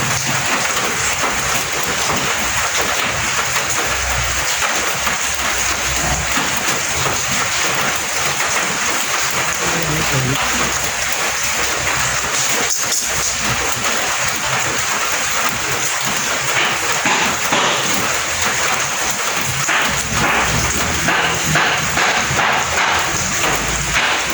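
Heavy rain pours down in a dense, steady hiss with scattered patters and occasional dull thumps, loud and continuous throughout with no talking.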